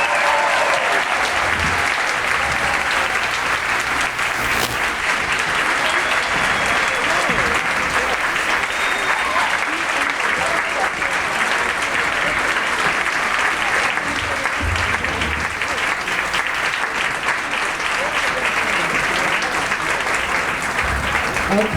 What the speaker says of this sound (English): now with a loud round of applause,